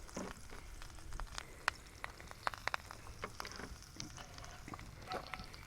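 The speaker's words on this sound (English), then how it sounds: "get a wooden spoon out here and mix this up a little" A wooden spoon stirs a cornstarch mixture in a pan during camp cooking at a lake, making soft scrapes and scattered light clicks with a faint sizzle-like hiss throughout.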